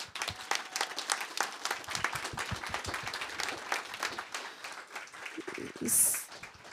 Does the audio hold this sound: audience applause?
yes